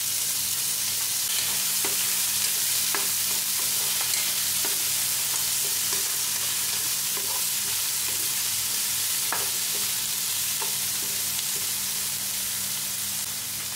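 Fresh tomato goes into a hot pan where tuna is cooking, giving a steady loud sizzle and frying hiss with occasional stirring clicks and scrapes, close and continuous, no voices.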